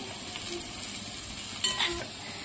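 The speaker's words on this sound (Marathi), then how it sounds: "बीटरूट घातल्यानंतर आपल्याला 2 ते 3 मिनिट हाय फ्लेमवर हे परतून घ्यायचं आहे।" Onion and beetroot fry over a high flame in a pan, a steady close hiss and sizzle with a few soft clicks of stirring and no talking.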